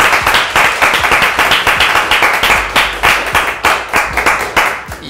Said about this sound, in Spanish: te felicitamos nuevamente con un fuerte, fuerte aplauso de todos